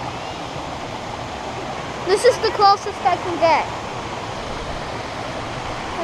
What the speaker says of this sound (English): And yeah, that is the waterfall.